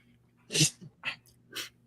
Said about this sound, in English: big dog taking a nap decides to sneeze.